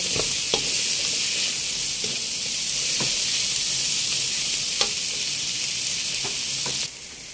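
Onions sauté in a pan for chicken biryani, cooking toward browning with a loud, steady, close sizzle and occasional sharp clicks of stirring throughout.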